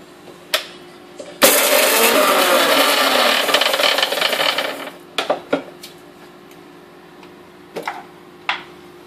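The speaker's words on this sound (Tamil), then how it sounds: "ஃபர்ஸ்ட் என்ன பண்ணணும்னா இப்போ இதை பொடி பண்ணி வைக்கணும்." A kitchen mixer grinder powdering dry horsegram for rasam runs loud for about three seconds as a steady whirring grind, then stops, followed by scattered clunks and taps of the jar and lid.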